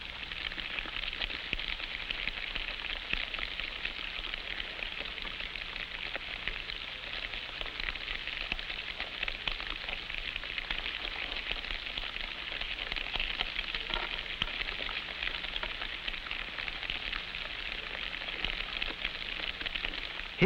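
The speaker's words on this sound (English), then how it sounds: "A number of caterpillars eating together sound like falling rain." Many silkworm caterpillars eating together make a dense, steady hiss like falling rain, soft and continuous without any break.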